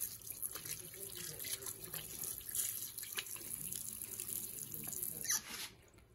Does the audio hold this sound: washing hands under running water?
yes